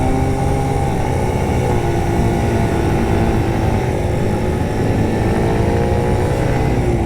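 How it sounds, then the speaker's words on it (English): Motorcycle on a winding mountain road near a Tenerife forest, engine running loud and steady up close with wind roar, pitch lines sliding as the rider drops a gear. "I might just drop it in a gear now."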